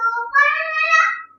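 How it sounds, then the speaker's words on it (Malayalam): A cartoon cat meows twice from a screen indoors, a short higher cry followed by a longer drawn-out meow, clear and prominent with no talk over it. "കൊച്ചു കാർട്ടൂൺ കാണാലോ പൂച്ചയുടെ"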